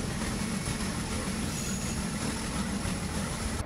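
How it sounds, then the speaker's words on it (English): A train slowly pulling out of the station at Montego Bay, Jamaica, in 1957, bound for Kingston: a steady, dense rumble of rolling rail cars holds loud and unbroken throughout, with no voices. "The train pulled slowly out of Montego Bay, St. James, for the over 80-mile journey to Kingston."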